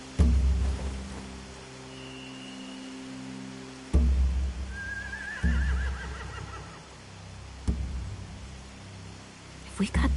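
A horse whinnies once partway through in The Walking Dead video game, over steady rain and a low droning background with occasional thuds.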